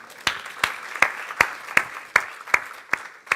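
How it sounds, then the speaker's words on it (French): A church congregation claps in rhythmic unison, about nine crisp, evenly spaced claps over a soft background of room noise. "je crois qu'on peut acclamer Jésus ce matin."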